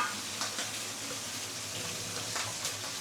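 Small fish marinated with fine salt frying in a pan of hot oil, giving a steady soft sizzle with light crackles and spatters, moderately quiet and close.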